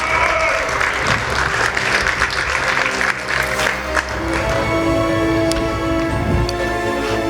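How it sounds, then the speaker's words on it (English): An audience at a StarCraft tournament at ng-conf 2016 applauds the winner, a loud sustained wash of clapping with crowd noise and some talk mixed in, thinning toward the end. "Everyone, round of applause for Recon, please."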